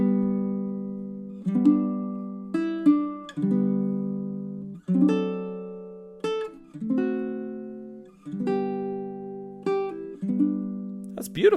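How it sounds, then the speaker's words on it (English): Silent Night picked slowly on a baritone ukulele, each plucked note or chord ringing out and decaying in an unhurried, evenly spaced melody, close and clear with no voices. "If I play the same arrangement that we just worked out on low G on baritone"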